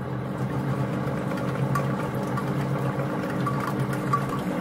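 A Compact Cook Elite food processor runs at speed 4 while blending a caramel, vanilla and tonka bean cream with milk, giving a steady, even motor hum with a low mechanical drone, close and unbroken throughout.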